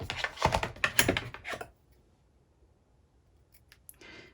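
Scissors snip through paper or card at a crafting table: a quick run of close, crisp cuts over about a second and a half, then near silence with a few faint clicks.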